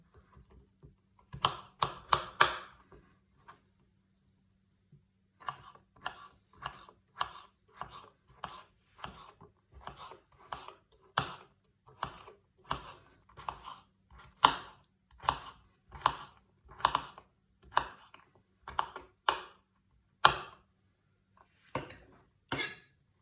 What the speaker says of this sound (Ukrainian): дрібненькими кубиками все це нарізаємо.